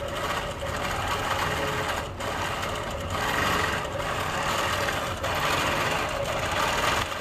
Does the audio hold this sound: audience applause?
no